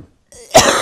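A single sharp cough bursts out after a short quiet gap with a faint murmur, loud and close, trailing into a noisy tail.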